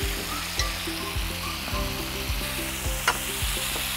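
A tomato mixture sizzles and bubbles hard in a frying pan, with steady rhythmic scraping and mashing strokes of a utensil repeating throughout, close and fairly loud.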